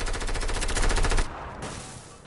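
Rapid SMG fire in Fortnite, a loud burst of about a dozen tightly spaced shots lasting just over a second, then cutting off into a fading tail.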